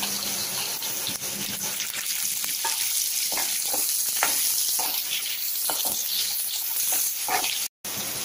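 Onion and tomato sautéing in a pan for coriander rice, a steady loud sizzle and crackle with scattered stirring clinks throughout, no talk.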